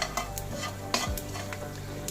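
Panch phoron spices sizzle in hot oil in a pan, with a steady low frying hiss, a few sharp spatula scrapes and stirs, and no voices.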